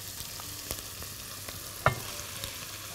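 Garlic followed by meat frying in a hot pot, a steady low sizzle with occasional stirring clatter and one sharp clink near the middle, heard alone without talk.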